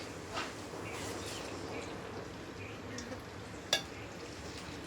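Oil poured into a pan over onions in a village-style Gujarati kitchen while stuffed brinjal curry is being made, giving a steady low sizzle and frying hiss throughout with a couple of faint utensil clinks and one sharp tap near the end.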